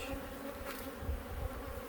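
Carniolan honey bees drone steadily at an open hive, a close, continuous buzzing hum with no talk over it.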